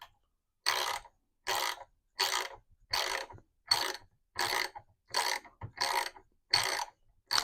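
A ratchet turning to remove a nut, about ten evenly spaced bursts of rapid clicking separated by short pauses, close and clear, no talk.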